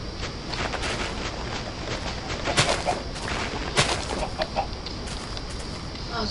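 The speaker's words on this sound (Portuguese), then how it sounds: "As minhas galinhas me seguindo." Chickens in the Minecraft video game cluck in short, scattered bursts over a steady background hiss, with a few sharper clucks standing out, and nobody talking.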